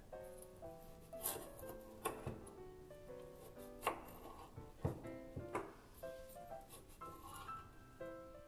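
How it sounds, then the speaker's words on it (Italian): A knife slicing diagonally through baked saffron tozzetti biscuit strips on a board, a series of distinct crisp crunching cuts at an irregular pace, close and quiet with music playing underneath. "vanno tagliate e bisognerà creare dei tagli in diagonali, ottenendo così dei tozzetti con uno spessore di circa"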